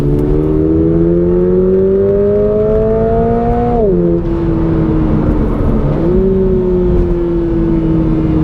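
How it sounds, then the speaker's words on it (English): A 2022 Toyota GR86 engine revving loud and close, its pitch rising steadily before two paddle-shift downshifts, each marked by a quick automatic rev-matched blip and a settling drone. "And it's doing that rev matching on its own there, which is pretty neat."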